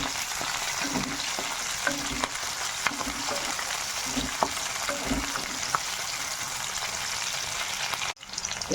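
Onion drops into hot white oil already crackling with cumin seeds, a steady close sizzle and crackle with occasional stirring scrapes and soft pops, ending in a brief clatter.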